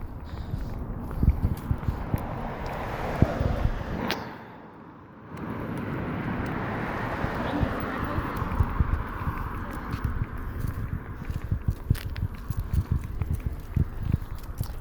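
A service horse in training walks while being ridden, its hooves striking in a steady rhythmic clip-clop throughout, close and clear, with a constant outdoor hum behind and a brief quiet dip partway through.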